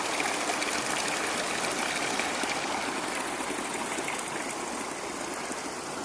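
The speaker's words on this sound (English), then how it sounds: "So he's probably coming up here to wash his car with spring water. Straight out of the bamboo." Spring water runs steadily out of a bamboo spout in a hillside bamboo forest, a continuous close splashing and trickling stream that stays loud and even throughout with no talking.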